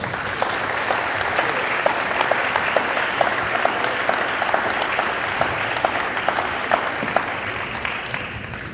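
An audience claps to thank panelists at a morning business event, steady crowded applause lasting several seconds at an even level, with a few crisp individual claps audible and no speech.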